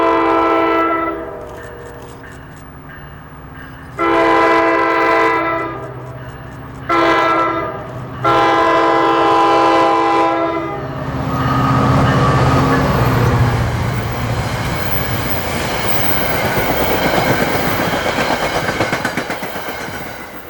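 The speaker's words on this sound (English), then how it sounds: "heading westbound was train 1171 with the smoking PL42 AC leading the way" A westbound passenger train led by a smoking PL42AC diesel locomotive sounds several loud horn blasts, then rumbles past close by with rising wheel and engine roar.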